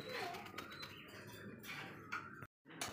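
Lahori satin pigeons at a sale, soft throaty coos repeating in a loose rhythm, close but quiet, with faint rustling and a short silent gap.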